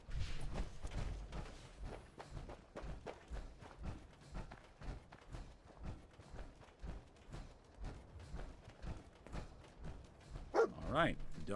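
Dogmeat, the dog companion in Fallout 4, barks in a steady run of repeated woofs over game ambience, with a louder, sharper burst near the end.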